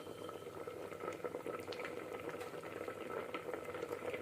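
Ground coconut paste goes into a pot of simmering Kerala-style moru curry, and soft bubbling and gentle liquid plopping carry on steadily at low volume, close by.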